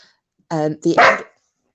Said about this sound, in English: Stop the dog again. Stop it.